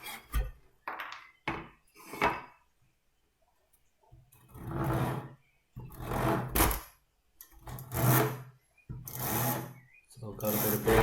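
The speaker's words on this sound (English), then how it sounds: "would be even easier to saw off the shoulder" A hand saw cuts the shoulder off a wooden picture-frame piece held against a bench hook, in short scraping bursts at first, then longer rhythmic strokes, close by and fairly quiet.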